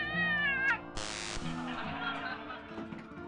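A cat meows from a television in the video game Thimbleweed Park: one drawn-out meow, then a brief noisy burst, over soft game background music.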